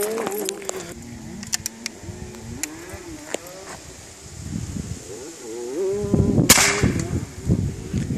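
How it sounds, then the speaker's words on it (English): Cooey 25 Canuck single shot bolt action rifle fired outdoors at an explosive target. Light metallic clicks of bolt handling come first, then one sharp, loud report near the end. "Tiny little Cooey 25 Canuck, single shot bolt action rifle."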